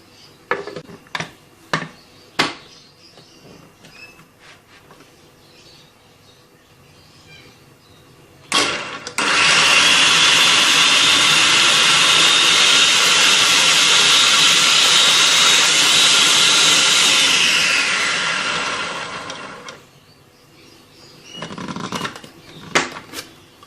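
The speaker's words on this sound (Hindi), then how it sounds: "2 सब्ज़ मिर्चें बारीक कटी हुई चॉपर में डालेंगे।" A food chopper whirs loudly for about ten seconds as it chops green chillies, onion and coriander. A steady motor hiss rises, then cuts off, with scattered clicks and knocks of handling before and after.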